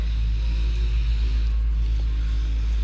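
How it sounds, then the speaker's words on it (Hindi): Low, steady rumble of road traffic drifting into an upstairs hotel room, a continuous muffled drone with no distinct vehicles standing out and no talking. "इसलिए आपको आवाज़ें वगैरह आ रही होंगी पीछे ट्रैफिक की"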